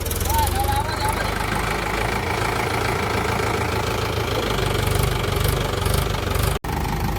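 An empty tractor's engine idles nearby with a steady low, knocking chug that barely varies, broken only by one brief dropout near the end.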